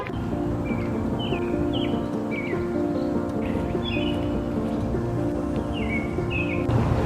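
Birds chirping and singing outdoors during a morning nature walk, repeated short tweets and warbling calls over a steady background hum.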